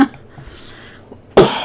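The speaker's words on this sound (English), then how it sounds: "I'm always coughing." A single short cough, loud and close, comes after a near-silent stretch with only faint low background sound.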